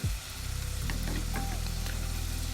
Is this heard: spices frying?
yes